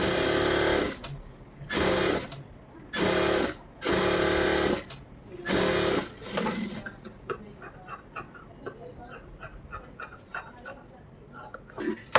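Domestic sewing machine stitching lining into a blouse, running in five loud bursts of steady whirring with short pauses, then giving way to quieter clicks and handling sounds.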